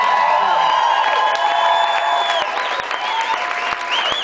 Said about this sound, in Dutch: sowieso daar applaus.